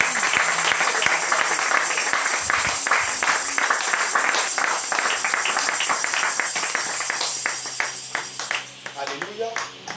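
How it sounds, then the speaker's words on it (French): A church congregation applauding and clapping to acclaim the Lord, a loud sustained crowd sound that thins out toward the end, with voices talking and calling out over it. "Tu fais bien d'acclamer le Seigneur."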